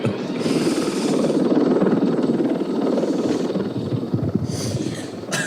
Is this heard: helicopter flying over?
yes